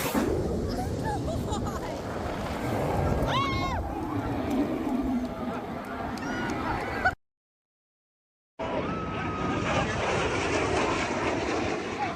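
Loud, continuous roar of a jet aircraft passing low overhead, with crowd babble underneath, then a brief total silence before the roar resumes.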